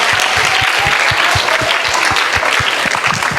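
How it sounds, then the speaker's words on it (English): A live audience gives a round of applause, loud dense clapping from many hands close by, steady for the whole stretch with no talking over it. "Give a round of applause"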